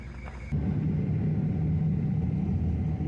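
A vehicle's engine rumbles steadily as it drives out through hard-packed snow ruts on a frozen mountain track, starting abruptly and then holding a close, even, low drone.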